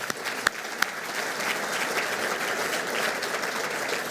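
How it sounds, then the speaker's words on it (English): A banquet audience at a business hall of fame gala breaks into steady, dense applause, many hands clapping together in an even wash, with a couple of sharper claps standing out near the start. "So a round of applause for them as well."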